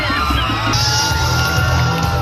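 Supporters from various towns cheer and yell at the Limgas na Pangasinan 2023 coronation night on the Provincial Capital Grounds, a dense, loud crowd roar with whoops, swelling further after the first second and continuing unbroken.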